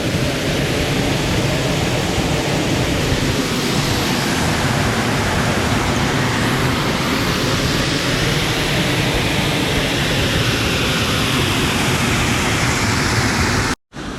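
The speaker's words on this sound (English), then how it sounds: "To get right behind the waterfall is amazing." Waterfall at Sgwd Einion Gam on the Elidir Trail, heard from right behind the falling water: a loud, close, unbroken roar of rushing water, steady throughout with no voices.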